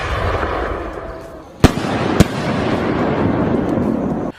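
Factory-made fireworks shells burst in the sky, two sharp loud bangs about half a second apart riding over a continuous crackling, rumbling wash of smaller explosions that fades out at the end.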